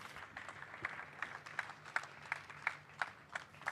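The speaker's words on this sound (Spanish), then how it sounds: "Demos un aplauso a Dios." Faint applause from a church congregation, a scattered, rhythmic patter of clapping heard from some distance.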